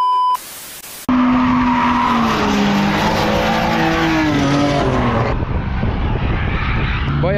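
A car drifting on the Andorra race circuit: loud engine roar with rising and falling revs and long squealing tires, close and continuous, following a brief burst of noise and a dip at the start.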